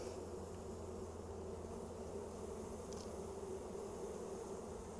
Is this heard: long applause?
no